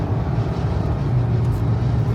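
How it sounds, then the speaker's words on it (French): A car engine revs loudly and steadily, with a low droning rumble that runs throughout and no gaps. "Là tu fais carburer la voiture."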